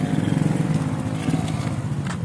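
Close by, a motorcycle engine drones in a continuous, fairly loud rumble for a couple of seconds as it passes.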